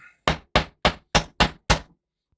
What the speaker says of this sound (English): taking my hammer and putting this wire on this block of metal